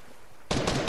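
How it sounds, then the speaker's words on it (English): Gunfire from henchmen in the video game Fortnite, a sudden burst of rapid loud shots that starts halfway through and continues to the end. "those are the henchmen shooting at the people"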